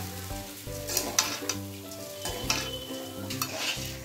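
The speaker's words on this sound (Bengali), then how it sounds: "চালটা খুব সুন্দর করে মশলার সাথে সয়াবিনের সাথে একদম ভাজা ভাজা করে নিয়েছি" Marinated rice frying in a pan with spices and soybean chunks: a steady oil sizzle under repeated scraping stirs and light clinks of the utensil against the pan, without any talking.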